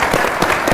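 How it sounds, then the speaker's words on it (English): A crowd applauds at a civic talk with legislative leaders, honoring a National Automobile Museum partner; brief, dense clapping with a few sharper individual claps standing out. "Give Phil a round of applause"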